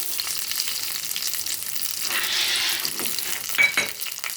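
Green chilli pieces, cumin seeds and garlic fry in hot oil in a kadai, giving a steady close sizzle that swells to a louder hiss midway, with brief stirring scrapes near the end and no voices.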